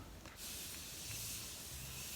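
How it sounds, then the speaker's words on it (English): A Jeffree Star makeup setting spray gives one close, steady hiss of fine mist that runs continuously for about two seconds after a short quiet start. "So I'm going to use Jeffree Star setting spray."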